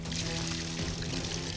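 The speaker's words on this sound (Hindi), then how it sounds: "अरे अरे उधर पानी छोड़ो ना," Water gushes from a pipe into a field being flooded for rice transplanting, a loud, continuous splashing pour heard up close with no pauses.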